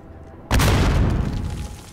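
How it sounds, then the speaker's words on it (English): A tripwire explosive is blown up in Call of Duty: Modern Warfare, a sudden loud, close boom with a deep rumbling tail that fades over about a second and a half, with no one speaking. "instead of holding X, you just gotta blow them up with explosions."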